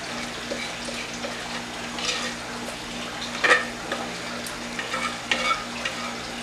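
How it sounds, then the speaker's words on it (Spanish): Pecan pie filling being stirred in a pie mold, with soft scraping strokes and occasional light knocks of the spoon over a faint steady background hum. "Lo mezclamos bien ya en el molde para que tenga la misma cantidad"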